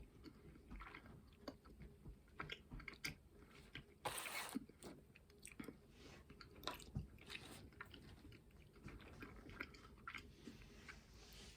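Sour Patch Extreme Sour gummy candy chewed close to the mic, with soft, irregular squishy bites and clicks and one brief louder rustle; no talk.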